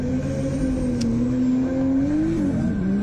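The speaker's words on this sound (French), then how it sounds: "Il vient nous montrer de quoi il est capable Enzo Suras dans cette BMW 30" A BMW drift car's engine at the final round of the French drift championship holds a loud, sustained high-revving drone, pitch wavering and briefly rising near the end with faint tire noise.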